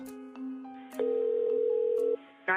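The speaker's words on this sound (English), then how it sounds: "Desperate to locate Tanya, Tom makes an emergency phone call." An emergency call is placed on a telephone, with electronic dial tones and a sustained ringing or line tone heard close and clear, and no talking.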